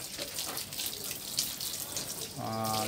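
Water is poured and rinsed over the window of a 2005 Suzuki APV during exterior cleaning, a steady splashing hiss that runs throughout and turns into a fuller, running flow near the end.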